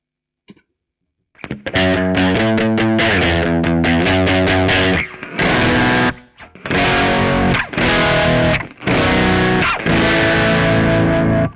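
Loud distorted electric guitar with heavy fuzz from a fuzz pedal through a Kemper Profiler, chords and riffs ringing out in bursts separated by short pauses, no voices.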